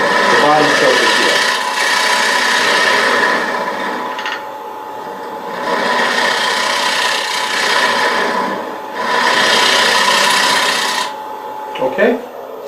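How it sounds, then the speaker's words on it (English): A scraping cut on a small walnut bowl turning on a wood lathe, a loud, close rasping scrape that comes in three long passes with brief easing between them. "Not a fancy cut, that's just a scraping cut."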